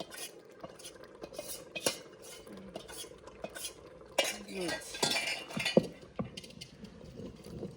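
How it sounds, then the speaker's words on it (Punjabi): Maize flour batter being stirred in a bowl in a Punjabi home kitchen, with irregular clinks and scrapes of a utensil against the bowl, some sharper knocks, and faint background voices. "ਆਪਾਂ ਮੱਕੀ ਦਾ ਆਟਾ ਘੋਲ ਲਿਆ"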